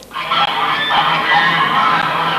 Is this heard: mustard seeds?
no